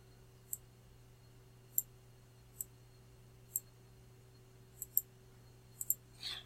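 Sparse, faint computer mouse clicks at irregular intervals, around eight small sharp ticks against a quiet background hum, a few coming in quick pairs.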